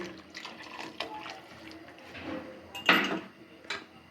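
Thai soup mix stirred with hot water is poured into a pot, a soft liquid splash and trickle amid faint kitchen clatter, close and moderately quiet.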